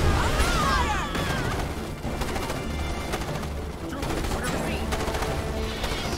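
Sci-fi rifle fire from squads of troopers in the real-time strategy game Starship Troopers: Terran Command: dense, rapid overlapping bursts roll on loudly and up close for several seconds without a break, and no one speaks.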